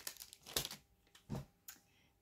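A vintage toy is unwrapped from its packaging, with a few short crinkling and tearing rustles, close and fairly quiet, spaced out with brief pauses.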